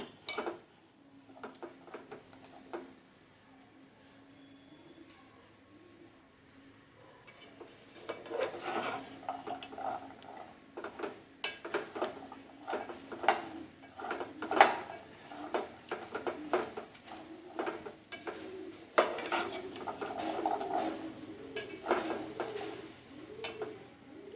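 Okra (bendekayi) frying in a pan for sambar, stirred with a utensil: steady scraping and rasping clatter with a soft sizzle beneath, quieter at first and growing busier and louder, no voices.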